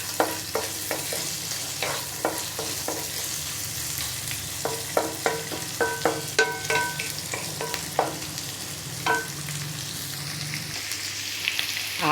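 Onions, potato, chilli powder, turmeric and spice masala fry in a pan under a steady sizzle, with repeated scraping and clinking stirring strokes of a spoon, close and fairly loud, no talking.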